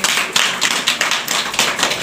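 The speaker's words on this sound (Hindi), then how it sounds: "इसके लिए हम ताली बजाएंगे।" A small group of people clapping in short, uneven bursts, with close, sharp claps rising and falling in irregular pulses.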